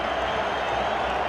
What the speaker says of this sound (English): the Nürnberg supporters celebrate nonetheless